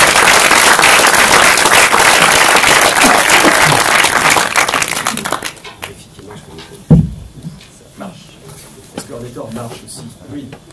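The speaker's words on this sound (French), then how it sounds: "Je vous demande d'applaudir Yann Kounen et Rodolphe Chabrier" Loud sustained audience applause fills the first five and a half seconds, then cuts off into a quieter room with a single thump and scattered small noises.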